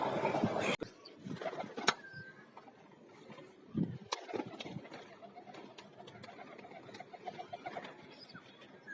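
Soft, low coos of kachuri pigeons repeat faintly in the background, mixed with a few clicks and knocks and some light rustling nearby.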